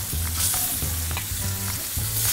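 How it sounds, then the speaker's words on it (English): Meat seasoned with salt, fennel seed, white peppercorns and cumin sears in a hot frying pan, giving a loud, close, steady sizzle with repeated scraping pulses from stirring and no talking. "That's that sizzle we love, John."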